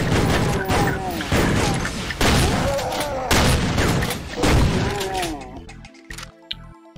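Rapid gunfire and booming blasts from the video game Doom, a dense, loud barrage of repeated shots with heavy impacts that thins out near the end into sparser electronic sounds.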